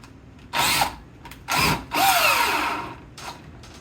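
A DeWalt impact driver fires in three bursts, two short and one longer, driving a fastener, with a brief tap afterward; close and loud with no talk.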